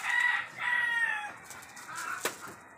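Crossbred hens and roosters cluck and crow close by, a rooster's strained call followed by shorter clucks and squawks, with no voices.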